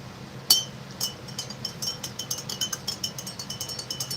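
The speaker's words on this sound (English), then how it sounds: "Stir my lemon lime drink one more time." A spoon clinks against a glass while stirring a lemon lime drink, one sharp tap followed by a quickening run of light close ringing clinks.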